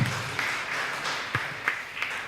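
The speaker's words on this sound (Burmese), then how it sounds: "အားလုံးလက်ခုပ်တီးပြီးတော့ကျွန်တော်ကြိုဆိုရအောင်" A church congregation claps together to welcome their pastor, a moderate, sustained patter of hands with a few sharper accents, heard at a modest distance.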